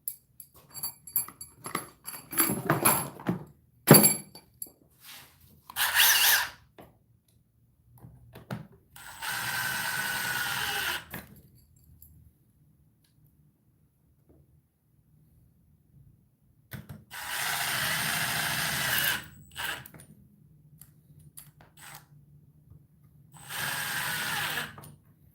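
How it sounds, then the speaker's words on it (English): Flex and Milwaukee 2904 cordless hammer drills under test, bursts of ratcheting clatter and hammering separated by silent pauses, with a few longer steady runs later on. "We'll do the Flex in Milwaukee first,"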